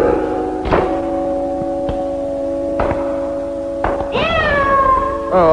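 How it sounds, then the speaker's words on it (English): A pet cat lets out a loud yowl after its tail is stepped on, rising into a sharp, wavering cry near the end, following a few dull knocks over a steady background tone. "I stepped on my cat's tail."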